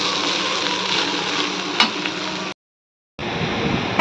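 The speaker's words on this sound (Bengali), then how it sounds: "আলু দিয়ে আর মাছের ডিম দিয়ে একটু ভাজা করছি" Potatoes and fish roe frying in a pan, with a loud, dense, continuous sizzle that drops out briefly and then returns just as strong.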